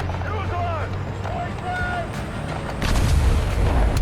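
An M3A3 Bradley's autocannon fires in War Thunder, a dense rattle of rapid rounds that rises loud near the end over engine rumble, with someone talking excitedly throughout.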